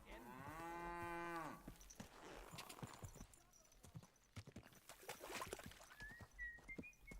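Cows mooing in the video game Kingdom Come: Deliverance II, one long, loud bellowing moo up front, followed by clip-clopping hooves and farmyard clatter with voices underneath.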